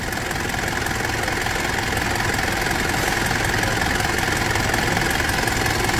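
The 4M41 diesel engine of a Mitsubishi Triton pickup idles steadily and loudly up close, with a rough, knocking rumble throughout.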